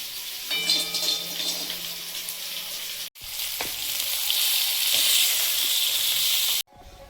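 Lentil dumplings (bori) dry-roasting in a hot pan with no oil, giving a steady close sizzle and hiss with a few scraping stirs; a faint tonal hum sounds early on, and the sound breaks off briefly partway through.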